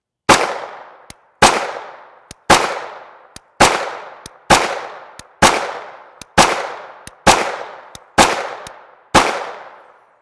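A CZ Scorpion Evo 3 S1 SBR with a 7.72-inch barrel fires 9x19mm 124gr FMJ rounds, ten loud sharp shots at an even pace about a second apart, each with a ringing decay.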